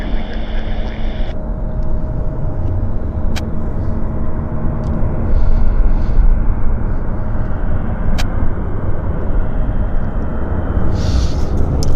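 An airplane taking off at Vancouver YVR airport, heard as a steady, loud, broad engine roar and rumble that swells slightly midway, with a few faint clicks over it.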